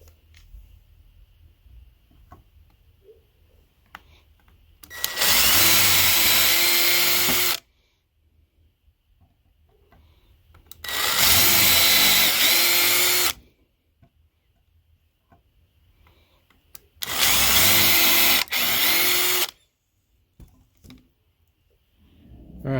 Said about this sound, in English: I'm going to go ahead and pre-drill my holes